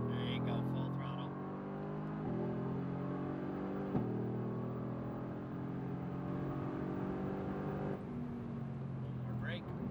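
A Mercedes-AMG GT R at full throttle on a racetrack, its engine note climbing steadily through the gears with brief dips at the shifts, heard from inside the cabin under an instructor's voice.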